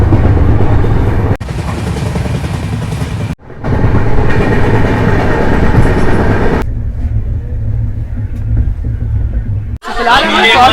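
Mysore to Jaipur Superfast Express sleeper-class train running steadily, a loud continuous low rumble with rattling carriage noise and brief dropouts, ending in a noisier burst.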